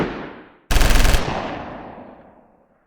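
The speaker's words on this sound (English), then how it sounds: "they were soon firing down the street at my advancing squads" A machine gun fires a short loud burst with a long echoing decay, following the tail of an earlier reverberating shot, alone with no voices.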